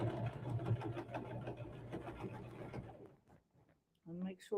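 Sewing machine stitching slowly across a rag quilt seam, a steady mechanical whir running for about three seconds with small pulses, then stopping; a voice speaks briefly afterward.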